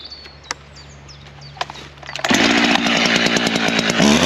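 A chainsaw bites into a felled tree being logged for firewood, starting after about two seconds of outdoor quiet with scattered birdsong, then running loud and steady with a rough, buzzing roar until the end.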